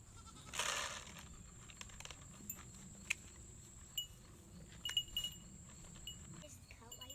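A goat bleats once near the start, loud and close, on a quiet farm. Faint clicks and knocks follow against a low outdoor background.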